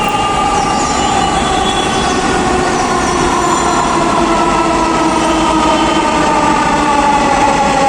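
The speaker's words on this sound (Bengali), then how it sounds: "এইমাত্র আমরা অবস্থান করলাম ঢাকা মেট্রো রেল স্টেশনে।" Dhaka metro rail train at the station, a steady loud rumble of the carriages with faint high wheel squeal running the whole time, and no voices.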